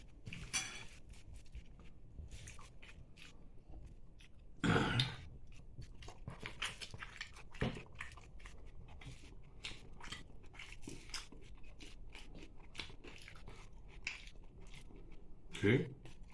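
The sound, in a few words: chewing luchi with fried brinjal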